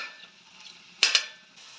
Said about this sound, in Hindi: लहसुन अदरक के साथ इसको 2 से 3 मिनट तक फ्राई कर लेंगे। अच्छी तरह मिक्स करेंगे